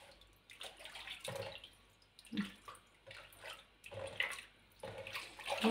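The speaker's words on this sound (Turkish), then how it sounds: "Üç dört sefer yıkarık arkadaşlar bu mantarı biz." Mushrooms washed by hand in water, with intermittent splashing, swishing and dripping in a basin, moderately close and uneven in rhythm.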